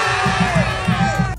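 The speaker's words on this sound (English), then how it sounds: "This crowd's reaction is awesome." A crowd at an outdoor event cheers and whoops together in a loud, dense burst of voices, with rhythmic shouts pulsing through the brief roar.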